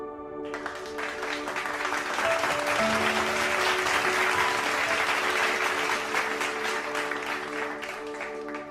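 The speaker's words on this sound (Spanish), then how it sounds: "Denle un aplauso al Señor." A church congregation claps together in praise, a sustained roar of hands rising quickly over sustained organ or keyboard notes and lasting several seconds.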